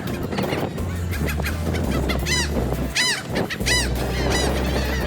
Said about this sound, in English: With this many birds all getting upset.